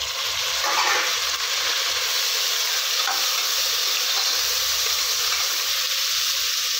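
Tomatoes frying and being stirred into sautéed onions in a pan while cooking chicken biryani, giving a steady close sizzle with soft stirring scrapes throughout and no talking.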